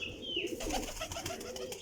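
Teddy Salara pigeons coo in low, murmuring calls, close and fairly steady, with faint chirps over the top and no voices.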